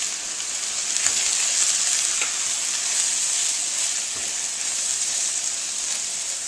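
Soy sauces and chili paste fry in a pan for mee goreng, giving a steady, loud hissing sizzle with faint stirring scrapes and ticks throughout.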